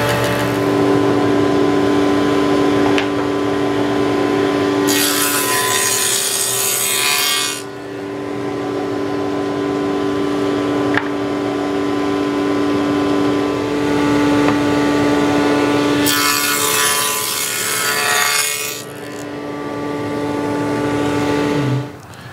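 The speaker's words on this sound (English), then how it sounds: "We like to put this real thin saw cut in our bottom board" A saw with an automatic feeder cuts a thin, half-depth groove into a wooden bottom board for a nuc box. A steady machine hum runs throughout, with two loud, hissing cutting passes of about three seconds each.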